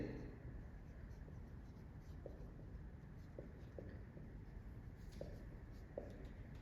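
A pen or pencil writing by hand while working through a Class Eight math problem, giving faint, scattered scratchy strokes over a low steady room hiss, with no talking.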